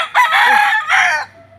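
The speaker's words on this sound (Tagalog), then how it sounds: "Puntahan ko muna yung manok ko." A rooster crows loudly and close by in two strong bursts, the second call shorter, followed by quiet.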